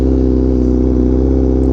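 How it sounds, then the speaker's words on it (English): A Honda Fireblade RRR SP motorcycle with a full titanium exhaust idles high and loud up close, a steady throbbing engine note holding an even pitch without a break. "right now it's idling too loud"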